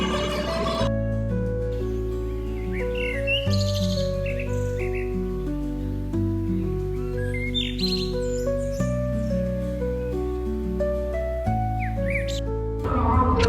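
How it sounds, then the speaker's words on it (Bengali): Birds eating paddy in a field chirp and tweet in short, scattered calls throughout, set against a continuous backing of sustained musical tones. "পাখিরা এসে তো সব ধান খেয়ে যাচ্ছে"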